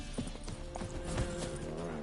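A horse in The Witcher 3 clip-clops along in quick, even hoof beats, faint and steady over a soft game background.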